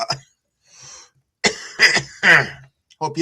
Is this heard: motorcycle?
no